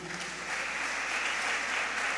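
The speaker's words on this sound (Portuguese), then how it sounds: "Você pode aplaudir o Senhor por isso?" A church congregation applauds during a sermon, giving a steady, moderately loud wash of many hands clapping with no individual claps standing out.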